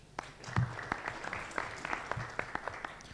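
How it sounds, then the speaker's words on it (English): Event participants applaud themselves at a hotel gathering, a smallish scattered round of claps with distinct individual hand strikes over a few seconds, fairly quiet and without talk. "So clap for yourselves"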